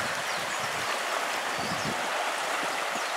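Water of the Wailua River on Kauai rushing steadily past at a river crossing, a continuous broadband wash of flowing stream noise that stays even and close throughout with no talking.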